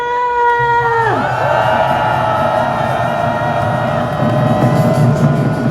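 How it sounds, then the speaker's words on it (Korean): A large crowd at a May Day labour union rally on Sejongdae-ro in Seoul roars in a sustained, loud cheer to start a march, the shout swelling over steady crowd noise after a sliding tone fades out. "행진 시작하는 함성 한번 발사하고 갑시다."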